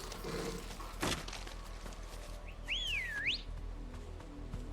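Sweeping, warbling whistle in the Final Fantasy XVI video game, rising and falling in clear loops for about a second over a steady ambient game background, with a sharp crack just before.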